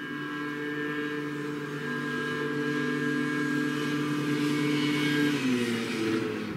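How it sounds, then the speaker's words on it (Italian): Scooters passing along a city street, forming a continuous, fairly loud engine drone with steady tonal hum whose pitch shifts slightly near the end; no voices. "Senti che casino, sti scooter schifosi"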